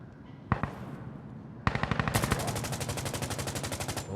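Rapid gunfire in Insurgency Sandstorm, including Desert Eagle pistol fire: two sharp single shots early on, then a long fast run of evenly spaced cracks, loud and close.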